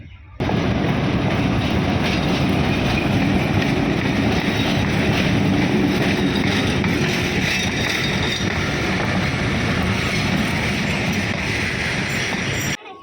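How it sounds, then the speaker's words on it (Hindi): A Hazara Express passenger train pulls into a railway station platform in Pakistan, a loud, steady close rumble of wheels and carriages that runs unbroken for the whole stretch, with no voices heard. "यहाँ पे इस प्लेटफॉर्म पे 12 डाउन जो है ना वो हज़ारा एक्सप्रेस यहाँ पे आके लगेगी।"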